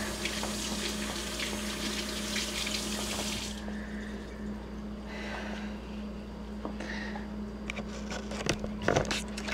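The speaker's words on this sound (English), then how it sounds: "just rinse my hands really quick" Hands rinsed under a running tap: a steady, full rush of faucet water splashing into a sink, loud at first then settling into a quieter flow with a few clinks near the end, no voices.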